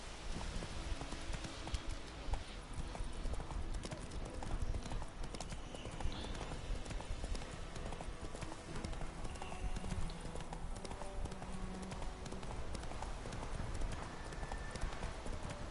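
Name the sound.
horse galloping in a video game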